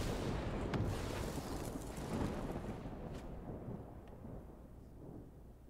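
Lightning Strike spell effect in the video game Magic: The Gathering Arena, a loud rumbling thunderous crackle with sharp cracks that slowly fades out, no talking over it.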